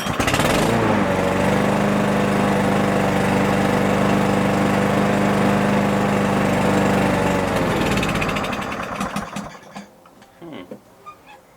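A small carburetted engine runs at high revs in a loud, steady buzzing drone that holds for about seven seconds, then drops away and sputters down to quieter, uneven clatter near the end.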